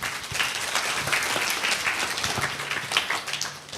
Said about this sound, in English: applause to this group